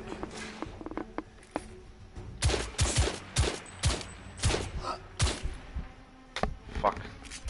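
Gunfire in The Order: 1886 crack out in a ragged series of loud, close shots and bursts, spaced irregularly over a quieter game background.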